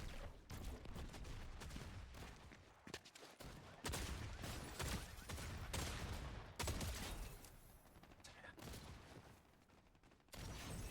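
Video game gunfire sounds in a live stream as rapid bursts of shots and volleys crackle one after another, fairly quiet and dense, with a few brief pauses between them.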